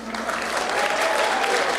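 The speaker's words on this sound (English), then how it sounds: "they're clapping for it" A crowd claps steadily in a room, a dense continuous wash of applause held at an even level for the full stretch.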